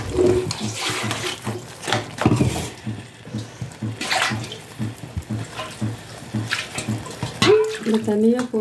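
Water poured and swirled into a pan of crab curry in a home kitchen, splashing in uneven bursts close by, while someone talks over it.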